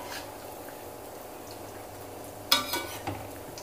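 Bread slices fry in a pan with a low, steady sizzle, then a sharp clatter and a couple of quick scraping knocks as the pieces are flipped, with no voices.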